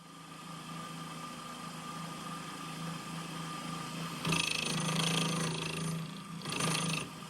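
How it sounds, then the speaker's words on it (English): A mill cuts a 15-degree pipe notch into a steel feed tube, a steady mechanical hum with a constant drone, broken by two louder, rougher bursts of cutting chatter near the end; no voices. "Here I am doing a pipe notch for welding this tube, which is the feed tube, at a 15-degree angle"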